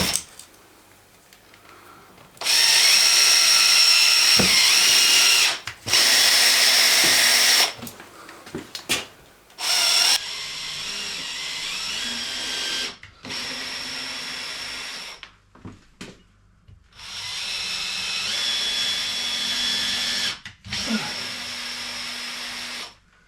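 A power drill whines in several loud bursts of a few seconds each, separated by short quiet pauses and faint shuffling.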